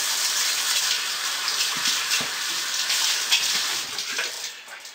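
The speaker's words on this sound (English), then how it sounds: "now wash my hands again" Running tap water splashes continuously over hands being washed during soap making, a steady close hiss with small shifts as the hands move under the stream.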